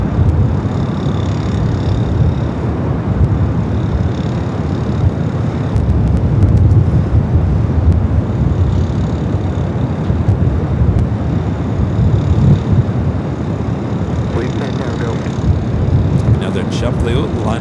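A Southwest Boeing 737-800 bound for Reno rolls for takeoff on runway 24 left at LAX in gusty wind, a steady engine roar mixed with wind buffeting, with talk over it.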